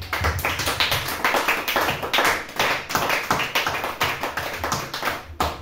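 A church congregation applauds in praise, with many hands clapping in a steady, rhythmic beat of repeated bursts, fairly close and without speech.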